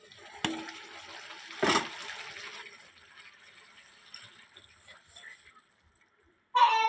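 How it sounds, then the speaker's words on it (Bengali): Water poured into a pot of curry as it cooks, to make the gravy: a soft, splashy pour with a couple of sharper knocks early on, then quiet trickling that fades before a brief louder clatter at the end. "একদম ঝোলের জন্য পানি দিয়ে দিলাম"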